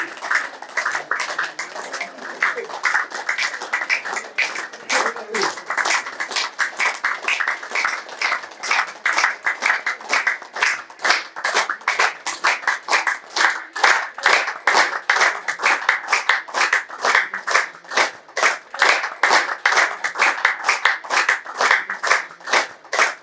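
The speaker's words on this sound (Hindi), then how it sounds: "कम से कम 100 तालियां, ज्यादा से ज्यादा 250 तालियां बजाइएगा इस प्रकार" A group claps continuously in a fast, even rhythm at a cultural gathering, sharp bright claps repeating without a break for a long stretch, close and steady with no talking.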